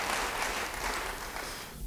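Applause from a church audience fills the space as a continuous, even wash of many hands clapping at once, moderately distant and without any speech over it.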